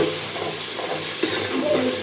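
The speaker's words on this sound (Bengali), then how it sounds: "সামান্য পানি দিয়ে দিচ্ছি মশলা" A beef rezala masala sizzles and steams as a little water is poured in, giving a continuous hiss with soft stirring underneath.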